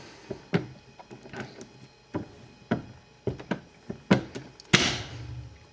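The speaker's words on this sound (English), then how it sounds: "As we force it down, and we just started the taper on the point here, it'll start to move the lead forward as well." A swaging press and die force lead into a 9mm jacketed hollow point bullet, giving a series of sharp clicks and thunks at irregular intervals, close and fairly loud, with no talk.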